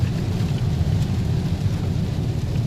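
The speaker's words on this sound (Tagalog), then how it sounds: "yung mismong bagyo kasi ay tumama rin dito sa amin sa Bulacan" Heavy rain and wind from Typhoon Ulysses in Bulacan make a steady, dense roar that stays unbroken throughout, with no voices.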